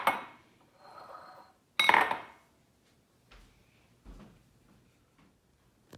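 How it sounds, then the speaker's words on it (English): Bowls being set out on a kitchen counter: a few separate ceramic clinks and knocks, the loudest two near the start, then softer taps spaced apart with quiet gaps between. "I'm going to set up these bowls just so we have them."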